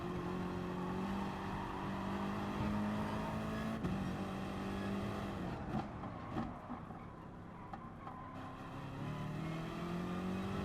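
Peugeot RCZ Group 3 race car in a racing video game at Interlagos, its engine droning loud and continuous with rising and falling revs, a brief dip around a gear change or lift-off, then pulling hard again, with no talking.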